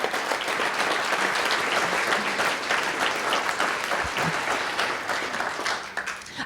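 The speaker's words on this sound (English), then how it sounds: "if you would just give them a huge round of applause" A large audience gives board members a big round of applause at a lunch-and-learn event, thick continuous clapping that holds steady for several seconds before starting to taper at the end.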